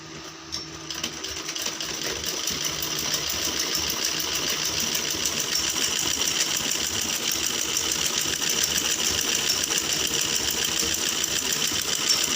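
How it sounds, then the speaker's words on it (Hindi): A sewing machine runs steadily for about twelve seconds, stitching a kurta along an earlier line of stitching, with a close, continuous whirring hum and no talk. "और यहाँ से जो मैंने सिलाई पहले लगाई हुई है बिल्कुल इसी के ऊपर मुझे मशीन चलानी है"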